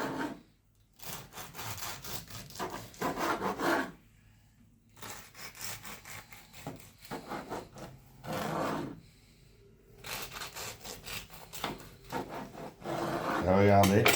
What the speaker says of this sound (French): faites des petits morceaux, tout simple, couteau à dents toujours